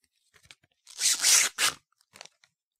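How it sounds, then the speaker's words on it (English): Protective foil peeled off a plastic display cabinet panel, a close crackling tear of about a second followed by a shorter rip, with faint crinkles before and after in an otherwise quiet room. "But then I realized it's just a foil. You just remove it."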